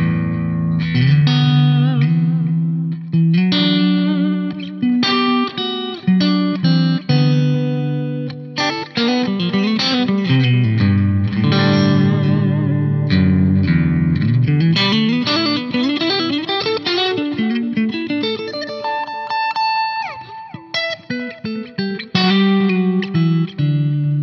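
An electric guitar plays through a Marshall Code digital combo amp on a clean setting with studio reverb and a vintage-style delay that adds slight modulation. Strummed chords and melodic runs continue steadily for the whole passage, with no talking.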